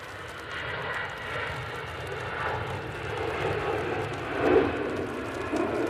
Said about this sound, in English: There's an EasyJet.